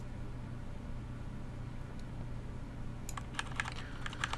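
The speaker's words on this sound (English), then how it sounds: "I'm using my arrow keys on my keyboard to do that" Arrow keys tapped on a computer keyboard, a quick run of light clicks in the last second and a half over a steady low hum.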